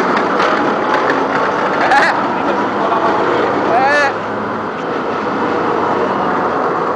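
An M113 armoured vehicle on a suspension test churns out a loud, steady mechanical rumble with two brief squeals of metal. Voices are heard over the noise.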